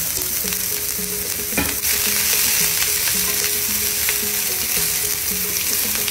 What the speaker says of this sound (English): Once the oil is hot, I'm going to add some onions and some chopped garlic.